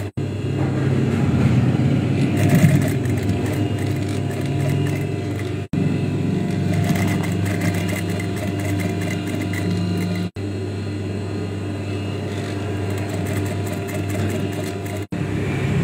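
Sewing machine stitching a straight edge seam along a gents kurta placket, a steady continuous mechanical whir running for long stretches with a few brief stops.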